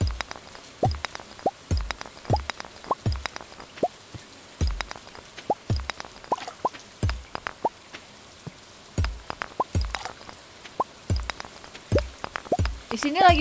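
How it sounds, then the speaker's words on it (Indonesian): Rain falling in the Stardew Valley video game makes scattered plops and drips at an uneven pace, steady and moderately loud for the whole stretch. "Sini lagi hujan Kak di Gingger."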